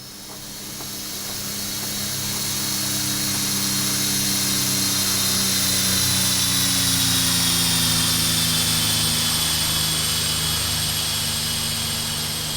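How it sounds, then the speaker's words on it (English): A lawnmower-like engine drones past in the foggy video game Titan Chaser, a steady buzzing hum that swells gradually and holds loud, with no talking. "That sounded like a lawnmower going by."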